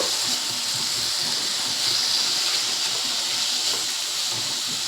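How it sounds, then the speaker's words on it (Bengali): Tomatoes and peas fry in a pan with a continuous, loud, even sizzling hiss that holds steady throughout, with faint stirring scrapes underneath. "টমেটো মটরশুঁটিকে একটু নাড়াচাড়া করে নেব, মিনিট খানেকের মতন এর সঙ্গে ভেজে নেব।"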